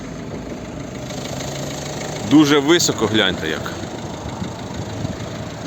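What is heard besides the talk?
diesel car engine idling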